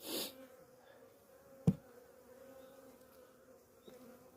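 Honey bees hum softly and steadily in an opened hive during an inspection in Hanam, Gyeonggi-do, a calm low drone with one brief knock partway through and no voices.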